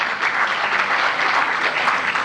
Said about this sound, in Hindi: ताली बजाने वाली बात थी, आपने नहीं बजाई।